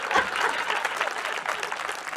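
Audience applause at a Hindi hasya kavi sammelan, a comic poetry recital, with steady dense clapping from a crowd for the full length, loud and close throughout with no voices over it.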